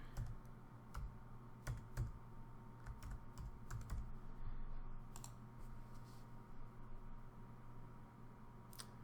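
Password being typed on a computer keyboard: a quick, uneven run of close key clicks that continues steadily for the whole stretch, alone over a faint room hum.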